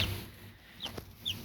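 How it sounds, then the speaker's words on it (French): Newly hatched cross-bred laying-hen chicks, born overnight, give a few faint, high, rising peeps spaced apart over a low background hiss. "nous avons des petits poussins croisés, donc qui sont comme les autres qui étaient dehors là"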